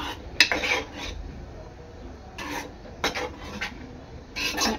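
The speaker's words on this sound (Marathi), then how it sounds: "आपले ड्रायफ्रूट्स, चारोळी, काजू, बदाम, पिस्ता चांगलं मिक्स करून घ्यायचं आहे" Cashews, almonds, pistachios and charoli being stirred into rice kheer in a pot, with a spoon scraping and clinking against the metal in a few short bursts separated by quieter stretches.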